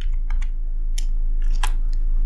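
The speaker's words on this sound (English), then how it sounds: "Just type some characters." Keys click on a computer keyboard in a short burst of separate taps, close and crisp, with a few pauses between presses and no speech.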